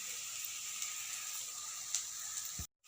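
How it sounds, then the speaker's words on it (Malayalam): Onions sautéing with salt, turmeric and black pepper in a pan for chicken kondattam, giving a steady, soft, close sizzle and hiss throughout that cuts off abruptly near the end. "ഉള്ളി ഏകദേശം വഴന്നു വന്നിട്ടുണ്ട്."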